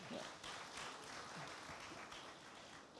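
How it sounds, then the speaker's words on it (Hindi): Studio audience applause during a televised interview, a continuous dense clatter of many clapping hands held at a fairly even level, heard alone without talk. "एक बार जोरदार तालियां हो जाएं।"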